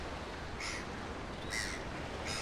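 Breeding seabirds calling on Lady Elliot Island, three separate bursts of harsh, crow-like cawing heard at a moderate distance over a steady windy, surf-like background hiss.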